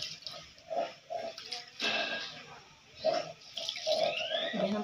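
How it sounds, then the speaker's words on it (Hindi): Biryani rice, about 500 grams, is swished and rinsed in water in a home kitchen, with intermittent splashing and sloshing bursts and a voice speaking between them. "500 ग्राम माने बिरयानी चाउल ताको धोई दबा"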